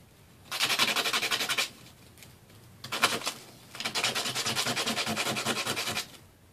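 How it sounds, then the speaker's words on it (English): Wood pieces from a Dollar Tree crate have their ends sanded by hand in three bursts of steady, rhythmic scraping strokes, close and fairly loud, with short quiet pauses between and no talking. "And then you're just going to sand down the ends again."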